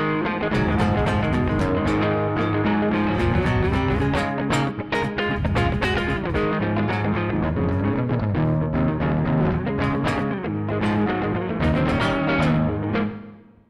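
Electric guitar riff played through a Richie Kotzen Fly Rig effects pedal with a short reverb, a country-style line of bright picked notes and chords, continuous and loud with no talking.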